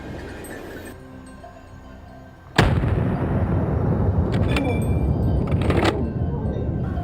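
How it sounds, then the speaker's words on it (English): A single rifle shot during a wild boar hunt cracks out sharply partway through and echoes, followed by rustling and handling noise nearby. "The gunshot echoed."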